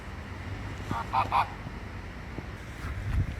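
A few short honking calls from ducks or geese at a moderate distance, a brief cluster over steady outdoor background noise.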